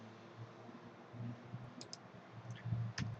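Single keypresses on a computer keyboard, quiet close clicks scattered over a faint background hiss, with no speech.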